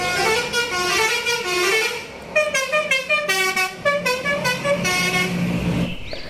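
A toy garbage bus sounds its horn in a loud, close sequence of bright electronic honks, repeated toots with short gaps, playing alone without talk.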